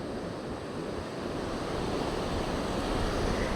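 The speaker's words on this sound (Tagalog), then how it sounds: "Mas malalaking alon dito sa San Diego Beach kumpara dun sa amin." Ocean waves break and wash steadily at San Diego Beach, a continuous broadband roar with some wind buffeting, swelling slightly louder toward the end, with no voices.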